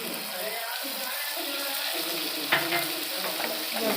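Chopped tomato drops into spices frying in a pan, giving a steady close sizzle with a brief sharper crackle partway through and no talk.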